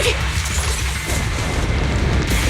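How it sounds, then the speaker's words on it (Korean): Explosion in an action cartoon fight scene: a sustained, loud low rumbling boom that fills the whole clip with heavy, steady energy and no speech over it. "방금 그 폭발은 모리스와 관련이 있는 게 분명해요"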